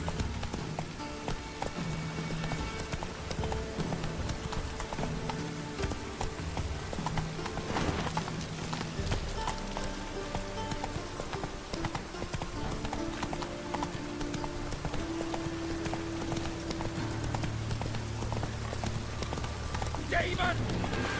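Galloping horse hooves from The Witcher 3, a steady, continuous clip-clop running the whole length beneath game music, with a brief neigh and voices speaking now and then.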